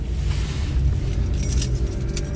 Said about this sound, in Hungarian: Kulcscsomó a kocsihoz.